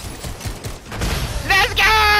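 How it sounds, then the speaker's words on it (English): Gunfire in Fortnite, a short burst of rapid shots ringing out under excited voices talking over each other. "Somebody's shooting him."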